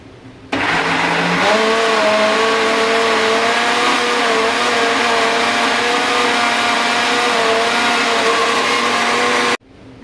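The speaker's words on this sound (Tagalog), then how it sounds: "So, i-blend po natin." An electric blender whirring loud and close, starting abruptly, holding a steady whine that shifts slightly in pitch as it churns garlic with lemon juice, then cutting off sharply near the end.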